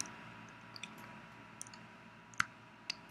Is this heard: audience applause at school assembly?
no